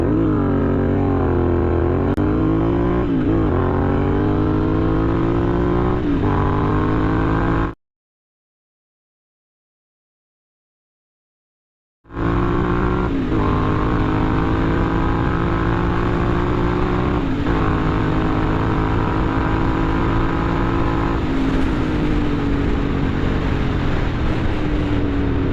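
A heavily modified Interceptor 650 motorcycle fitted with an RK chain set revs hard and accelerates from a standstill toward 100, its loud, close engine note climbing through the gears, broken by a few seconds of complete silence midway.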